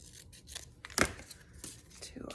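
Paper is cut and torn for a junk journal style mini notebook, with a few sharp close snips and rustles coming irregularly under quiet talk.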